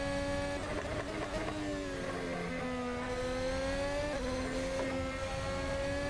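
Engine of a Ferrari SF-75 Formula 1 car in the video game Assetto Corsa at Jeddah, a high-pitched whining drone rising in pitch as it accelerates, with brief gear-shift dips and a steady loud tone throughout.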